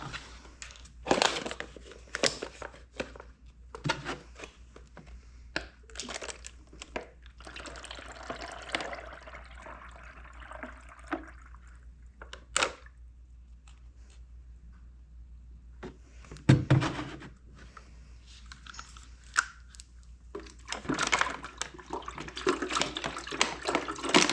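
Coolant concentrate and distilled water poured for a snowmobile cooling system, mixed at a three-to-two ratio, give close, intermittent glugging splashes with plastic jug crinkles and pauses, no talk.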